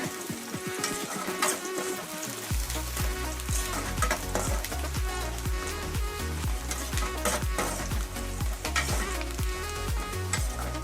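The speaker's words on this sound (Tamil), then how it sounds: "நல்லா கோல்டன் ப்ரௌனாக வறுக்கங்க" Seven peeled garlic cloves fry in hot oil until golden brown, giving a continuous crackling sizzle with occasional stirring. Steady background music plays throughout.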